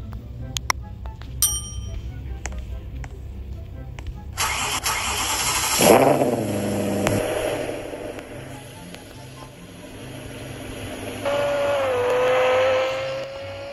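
A car engine in the Roblox game Mansion Tycoon starts and settles into a steady idle, then revs up with rising pitch, set against a quiet background of faint electronic tones.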